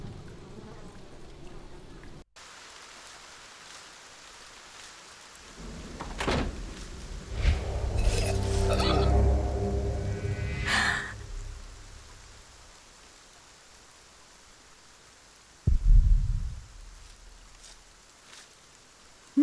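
Rain falls as a broad, hissing wash that swells through the middle and then fades, with a few louder low thuds near the end.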